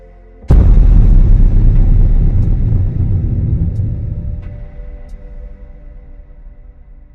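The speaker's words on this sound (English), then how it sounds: "It sounds like a crack of thunder, only more echoing." One sudden, loud, echoing crack like thunder, used as a story sound effect, bursts in after a quiet moment and then rolls into a deep rumble that slowly fades over several seconds, with no voices.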